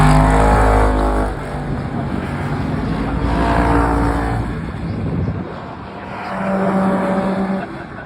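A race car screams past on a circuit as it crosses the line to finish its 27th lap, engine loud and close at first, then droning away before a second, fainter car rises near the end.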